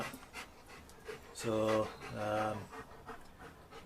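A dog pants in a garage workshop, two loud rhythmic breathing bursts close by after a brief word of speech, with quieter breathing between.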